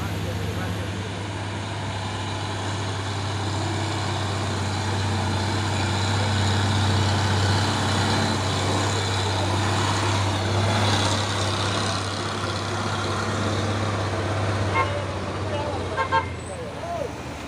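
Heavy trucks, including a tronton loaded with oil palm fruit, rumble past on a busy road with a steady low engine drone, a horn toot, and people talking throughout.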